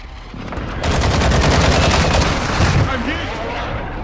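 Gunfire in Warzone 2 with a sniper nearby: a quick rattle of sharp shots gives way to a loud, rumbling wash of battle noise, with a voice heard faintly.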